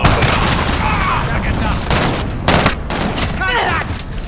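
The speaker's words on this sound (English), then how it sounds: "Allied cruise missile." Cruise missile strike explosions thunder in Call of Duty Modern Warfare amid dense gunfire and booming blasts, loud and chaotic, with radio-style voices mixed into the battle noise.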